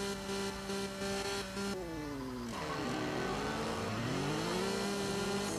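A car engine revs in the CSR2 racing video game, a steady mid-pitched drone that dips and climbs through several throttle swells, loud and close with no other sounds.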